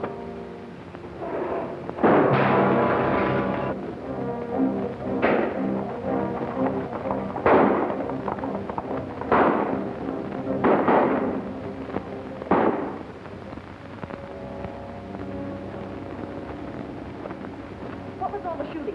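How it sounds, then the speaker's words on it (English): A burst of gunshots comes in a Western standoff: several sharp, loud cracks spaced a couple of seconds apart, with faint voices between them. "What was all the shooting?"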